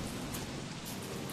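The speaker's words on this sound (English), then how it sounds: "looks like the rain's coming to us" Steady rain falling in the video game Don't Starve Reign of Giants, a dense, even hiss of drops with no pauses.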